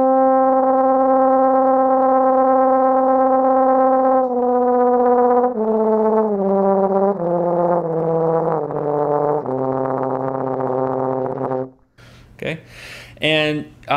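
Trombone played with the side-tongue extended technique, a sustained brassy tone stepping down in pitch with an uneven, breaking-up buzz, followed near the end by a few short noisy bursts.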